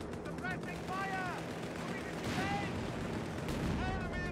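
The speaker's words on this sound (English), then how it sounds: "Suppressing fire." Battlefield suppressing gunfire in Company of Heroes 3, a dense continuous rattle of shots and distant booms under layered overlapping voice-like unit chatter, steady and moderately loud throughout.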